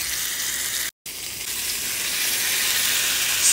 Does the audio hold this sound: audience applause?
no